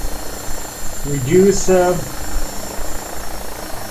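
An AgustaWestland AW109SP helicopter in a flight simulator runs with a steady rotor and engine drone under a voice talking throughout.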